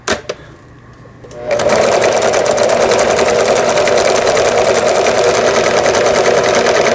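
A Pfaff sewing machine runs a triple zigzag stitch: after a brief pause the motor starts and settles into a steady, loud, rapid mechanical chatter that continues unbroken to the end.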